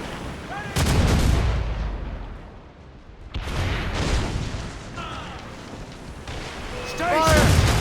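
Naval cannon fire in the video game Assassin's Creed Rogue during a ship battle, heavy booming broadside blasts over roaring sea and battle noise, loud and close, with shouting and game effects layered in.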